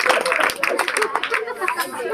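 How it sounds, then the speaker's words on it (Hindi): People clapping at an engagement gathering at home, steady claps mixed with chatter and a crowd of voices close by. "लड़कियाँ नीचे, ताली बजाओ ताली बजाओ ताली"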